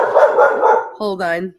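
Several dogs barking and yipping at a mail delivery, sharp harmonic barks close by with someone talking over them at the start.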